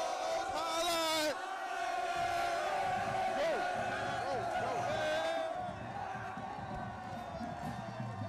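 Fired-up crowd at a preseason football game in a stadium, cheering and yelling loudly and steadily, with whoops and shouts rising over a dense wall of voices.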